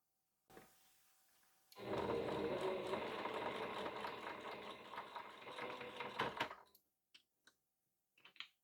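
A sewing machine stitches quilt pieces together in one steady run of rapid, even stitching of about five seconds, close and clear, followed by a few soft clicks in a quiet room.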